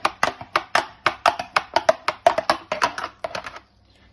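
Spoon scraping leftover food off a patient's plate into a non-medical waste bin during hospital tableware disinfection, a quick series of about fifteen sharp, close scrapes and taps in a steady rhythm, ending in near silence.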